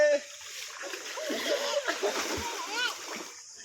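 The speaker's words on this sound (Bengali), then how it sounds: "আমরা সবাই গোসল করতেছি সাঁতার কাটবো" Splashing water as several people bathe and swim together, with sloshes and spatters close by while children and adults talk and call out over it throughout.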